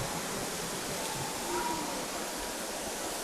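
An artificial multimedia waterfall inside a busy Thai shopping mall makes a steady, loud rush of falling water that fills the whole stretch, with a faint crowd murmur underneath.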